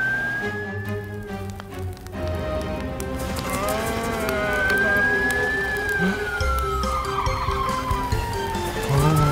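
A cartoon fire truck siren wails in slow rising and falling sweeps over playful children's cartoon music, steady and prominent for several seconds, with no talking.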